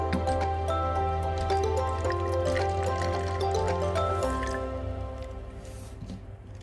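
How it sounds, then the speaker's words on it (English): Vinegar poured into a bottle held in a cup, a steady gurgling liquid flow with a droning background hum that fades toward the end, no voices. "So pour the vinegar inside."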